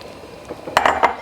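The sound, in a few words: stirring peach jalapeno jam in a pot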